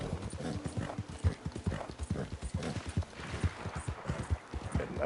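Galloping horse in Red Dead Redemption 2: fast, regular hoofbeats pound close by in a continuous rhythm, faintly punctuated by a short neigh.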